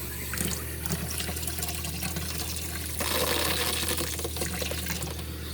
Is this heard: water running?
yes